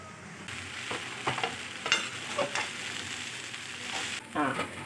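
Poha, flattened rice, sizzles steadily while being stir-fried in a pan, with soft scraping stirs and occasional louder spatula scrapes over the continuous frying hiss, close and moderately quiet.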